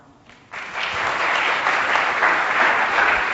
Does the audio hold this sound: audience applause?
yes